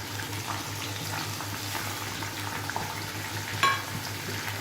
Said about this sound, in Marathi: आता हे व्यवस्थित परतून घ्यायचे